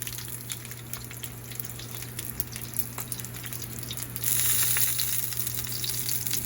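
Beef bulgogi dumplings pan frying, a steady close sizzle and crackle that swells louder partway through.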